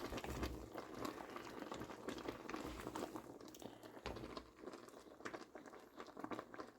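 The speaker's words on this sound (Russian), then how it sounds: "Это у меня варится лечо." Lecho of carrot, red pepper and zucchini simmering in a pot, a faint continuous bubbling and popping with soft patter that stays steady throughout.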